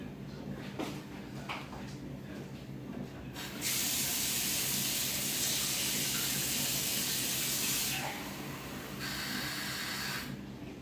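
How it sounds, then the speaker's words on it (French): Water pours steadily into a Thermomix TM7 bowl as a continuous close hiss and splash lasting several seconds. Softer kitchen clatter and a voice come before and after it. "on va ajouter 200 g d'eau"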